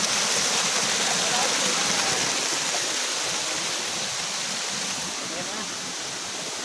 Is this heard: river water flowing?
yes